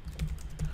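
Quick, light keystrokes on a computer keyboard, typed near the microphone in a short, uneven burst.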